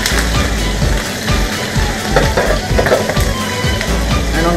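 Fish shallow-fries in a pan of oil, a steady close crackling sizzle with occasional utensil knocks, loud and continuous throughout with no talking.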